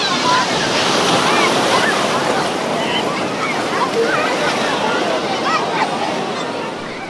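Sea waves at Digha beach wash in as loud, continuous surf close to the microphone, with wind noise running throughout and easing slightly at the end.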